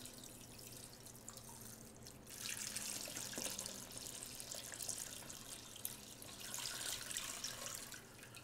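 Tap water runs steadily into a Ninja Foodi pot for pho, a soft trickle that swells into a louder, continuous splashing stream after a couple of seconds, close by with no talking.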